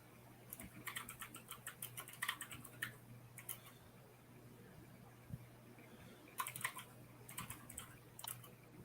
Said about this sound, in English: Keyboards. You can hear the keyboards.